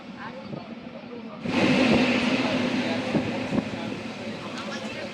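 A train bound for Howrah station runs at speed, a loud, steady roar and rattle that swells in suddenly and continues close by, with faint clicks over the rails.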